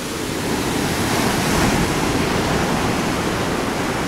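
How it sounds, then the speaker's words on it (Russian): Sea waves breaking and washing up on a beach at Alanya, Turkey, a dense, steady roar of surf that swells slightly in the middle, with no voices over it. "Такие вот, собственно, волны."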